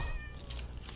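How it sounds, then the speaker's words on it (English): A cat meows inside a village video game, a short mewing call with a clear rising and falling pitch, close and fairly loud over a low game background hum. "That's a cat."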